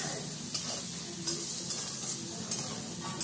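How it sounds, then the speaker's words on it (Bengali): Chopped onions frying in a pan for chicken curry, a soft continuous sizzle with periodic stirring scrapes, moderately quiet and close, no voices. "এবার এটাকে ভালোভাবে লাল লাল করে পেঁয়াজটাকে একটু ভাজা ভাজা করতে হবে"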